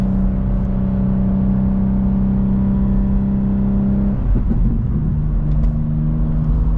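A manual BMW M2 G87 with a Stage 2+ tune drones steadily while driving in NYC, a sustained close engine hum that shifts pitch partway through as revs change, then settles again.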